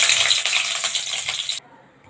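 Onion fries in hot oil in a wok with chilies already in it, a loud dense sizzle that fills the moment and then cuts off abruptly near the end.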